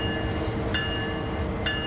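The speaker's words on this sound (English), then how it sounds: "Sounds like there might be a train going over the top of us there." A freight train rumbles overhead in a big San Bernardino rail yard in Train Sim World 5, making a steady, dense low roar with faint clanks and no voices.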